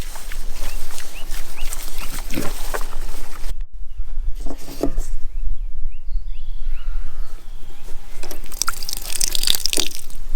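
Pigs at breakfast feeding time on a small farm, with wet snuffling, slurping and grunting up close, drips and splashes through the clip, a brief quieter gap midway, and faint birds in the background.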